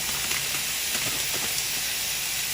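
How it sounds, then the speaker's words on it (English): A constant bright hiss of water boiling in a pot, close and steady, with faint bubbling pops underneath and no talking. "here our water's boiling"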